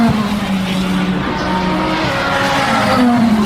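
A BMW race car on a track passes close and loud in one continuous roar, its engine tone sliding downward as it goes by, with a second car's engine note rising near the end.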